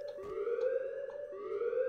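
Alarm in the Roblox horror game Apeirophobia, a steady electronic tone with repeating rising sweeps, moderately loud and alone, with faint background clicks.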